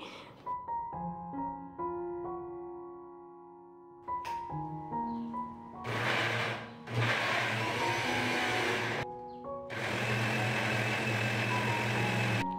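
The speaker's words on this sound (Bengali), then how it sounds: "এখানে কিছু লঙ্কা, রসুন আর কিছু কালো জিরে দিয়ে এটা ভালো করে এবার মিক্স করে নেব। তো মিক্সি জারে আমি এটা নিয়েছি।" A kitchen mixer grinder blends chillies, garlic and nigella seeds into a paste. Tonal whirring comes first, then two loud grinding bursts separated by a short pause, with no talking.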